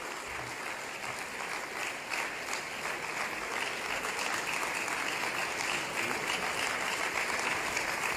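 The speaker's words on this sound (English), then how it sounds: "Please, with a round of applause," An audience at a democracy dialogue event breaks into sustained applause, a dense, even wash of many hands clapping that holds steady throughout.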